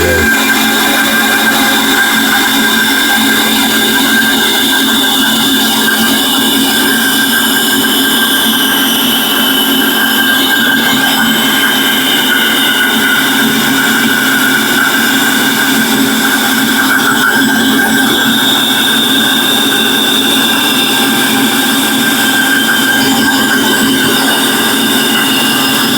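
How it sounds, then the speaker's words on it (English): A bandsaw cuts through a section of a wooden table leg being shaped without a lathe, a loud sustained whine with a steady grinding roar that continues without a break, close up and alone. "So let's cut this last section off. The bandsaw's coming pretty handy today."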